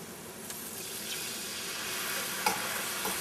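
Brown sugar and vinegar going into a hot pan of sizzling spicy Indian garlic pickle, giving a steady, even hiss and crackle with a few faint clinks and stirs.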